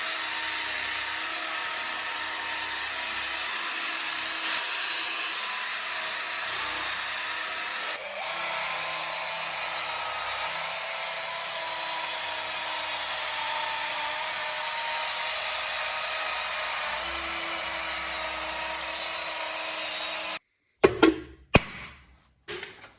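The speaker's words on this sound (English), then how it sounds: "I'm just gonna do some more polishing" Power polisher buffing the painted wheels of a Nova car stored for ten years, a loud, steady high-pitched whine that holds for about twenty seconds, then cuts off, followed by a few handling bumps.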